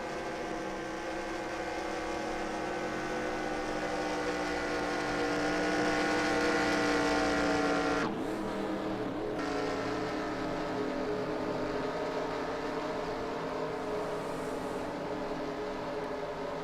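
Race car engines in the NASCAR Racing 2003 video game at Daytona drone steadily with layered harmonic whine, held in a low gear, loud and continuous, with a brief dip and shift midway.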